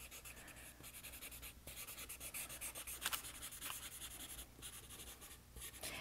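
A tortillon pressing charcoal powder into drawing paper on a bunny sketch, giving soft, steady scratchy rubbing strokes that run continuously at close range with no talk.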